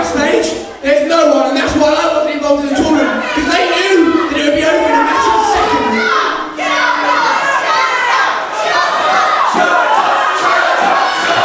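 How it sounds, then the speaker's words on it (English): A large crowd shouts and yells continuously and loudly, a dense roar of many voices with cries rising and falling close by throughout. "Crowd shouting for him to shut up"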